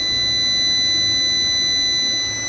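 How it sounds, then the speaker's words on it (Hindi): A Fronus Infinion 4.2 kW solar inverter with a 09 (E9) fault beeps continuously: a steady, unbroken high-pitched alarm tone over constant hiss, with no pauses and no voices. "और ये मुस्तकिल बीप कर रहा है। तो ये फॉल्ट है इसके अंदर।"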